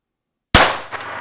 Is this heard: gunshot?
yes